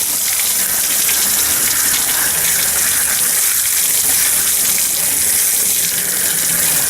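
Cold water gushes steadily from a sink tap at a fish-cleaning table, a loud, continuous splashing rush heard up close with no break.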